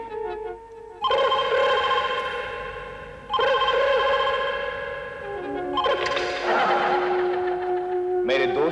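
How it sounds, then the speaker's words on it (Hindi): Household telephone bell ringing in long repeated electronic bursts, loud and close, with a brief gap between rings and a shifting tone toward the end. "मेरे दोस्त के घर पे फोन की घंटी बजी"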